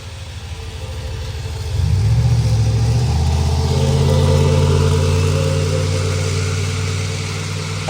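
A Lionel Fastrack garden train locomotive runs on an outdoor track with a steady motor hum and rumble that swells after about two seconds and holds at a moderate level, close by, with no talk.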